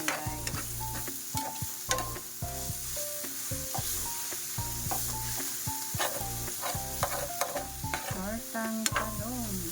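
Eggplant omelette (tortang talong) sizzling in a frying pan, a steady close crackle with repeated scraping and stirring of a utensil against the pan, no voices.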